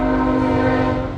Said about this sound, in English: I hope you guys can still hear me with the stupid train.